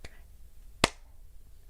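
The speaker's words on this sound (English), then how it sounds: "hope you could hear the clap" A single sharp hand clap rings out near the middle, close and crisp against a quiet room, with a faint click at the start.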